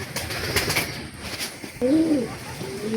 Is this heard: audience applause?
no